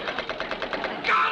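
Machine gun fire aimed at enemy aircraft from a submarine bridge, rendered as a rapid rattling burst of evenly spaced pulses that a voice imitates, close and short.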